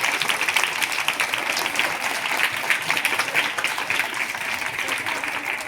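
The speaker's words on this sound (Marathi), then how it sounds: "त्यांच्यासाठी जोरदार टाळ्या होऊ शकतात." Audience at a disability week event applauds steadily and loudly, a dense wash of clapping that holds without a break from start to end.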